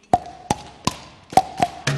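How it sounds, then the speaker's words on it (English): Five sharp, dry taps played in the Bo Diddley rhythm by fingers on the skin of a cheek, each one close and distinct with brief gaps between them, followed at the end by a faint low hum. "Bo Diddley rhythm on the skin of your cheek."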